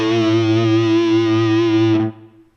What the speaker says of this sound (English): Now we're going to listen with our overdrive,